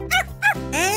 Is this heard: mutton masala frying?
no